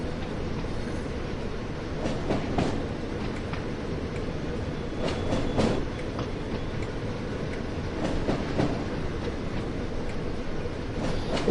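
A small Class 08 shunting locomotive in Train Sim World 5 hauls a long, heavy train, giving a steady rumbling roll with scattered rail clicks and brief squeals from the wheels.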